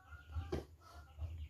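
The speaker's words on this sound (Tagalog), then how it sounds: "Mga manok." Chickens clucking nearby on a farm, a few short soft clucks over low background rumble, faint and brief.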